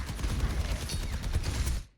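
Soldier: 76 firing his rifle in the video game Overwatch, a continuous rapid stream of gunshots that fills about two seconds before cutting off abruptly. No one speaks over it.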